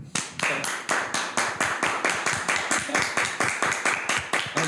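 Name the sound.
applause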